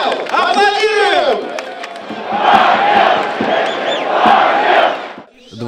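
A crowd applauds and cheers for a regional beauty contest winner being introduced, a loud sustained roar that follows a brief voice and then tails off at the end.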